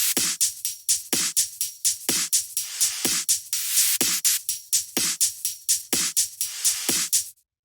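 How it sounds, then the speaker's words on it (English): A busy, loud high-tech minimal techno percussion loop with crisp, steady hi-hats, punchy snare hits and a shimmering ride cymbal repeating in a tight rhythm, then stopping abruptly. "After that, we have the percussion, which sounds like this."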